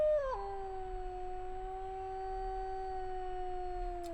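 A wolf lets out one long, steady howl that begins with a short rising slide and then holds a single pitch to the end, loud and close, with no other voices.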